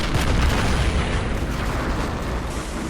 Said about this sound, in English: I hear another tank cooking off.